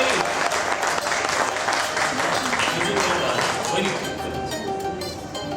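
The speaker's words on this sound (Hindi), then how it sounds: "ताली बजा दो, जोरदार ताली, जोरदार।" Loud, continuous applause from a seated group at an achievers' wellness event in Jim Corbett fills the whole stretch, dense and steady before easing slightly toward the end.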